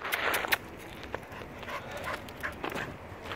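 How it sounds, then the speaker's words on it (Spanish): Dogs at a dog park bark in short, sharp bursts. One bark cluster comes early and then scattered lighter barks and yelps follow over outdoor background noise. "Mira, uno arriba y el otro abajo ladrándole."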